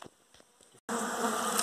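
Bees swarm in the open while honey is harvested in the Chapada, a dense, loud, continuous buzz close by that bursts in suddenly after a brief quieter stretch with faint knocks.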